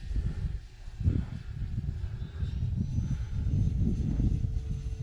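An E-flite Air Tractor RC plane on a 4S 2200 battery flying overhead, a faint steady electric motor whine at some distance against wind, with no talking.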